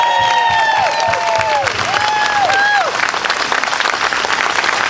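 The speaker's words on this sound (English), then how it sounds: "I think we owe them a round of applause for our gratitude" Rally crowd applauding veterans and active service members at an outdoor cross rally, loud, dense clapping with whoops and cheers over the top early on, then steady clapping that continues to the end.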